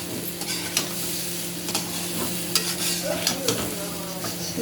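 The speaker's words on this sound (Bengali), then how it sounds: "আদা আর লঙ্কা দিয়ে দেবো আদা আর লঙ্কা নাড়াতে রাখবো" Ginger and chilli stirred and fried in a pan for a khichuri of Gobindobhog rice and moong dal, with a steady sizzle and intermittent scraping strokes of a spoon against the pan.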